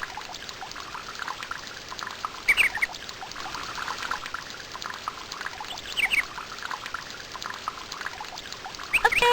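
River water flowing in the video game Once Upon a Forest: a steady, even pouring rush with faint trickling detail, holding a constant level throughout.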